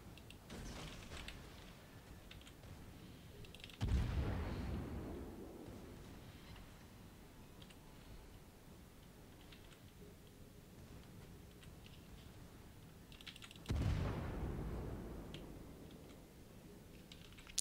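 Naval guns firing in the World of Warships video game, two heavy booming salvos spaced about ten seconds apart, each a sharp loud onset trailing into a long rumbling decay over a steady low background.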